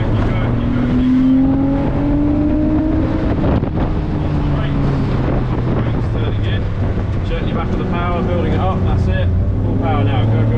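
A rally car's engine at full power, loud and close, its pitch climbing in long sweeping surges amid wind buffeting, with a voice calling out over the roar.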